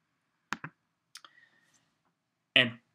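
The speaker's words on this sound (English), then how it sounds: "and click open" Computer mouse clicks while opening a file in publishing software on a Mac: two quick close clicks, then a couple of softer clicks, and a louder click near the end, on a quiet background.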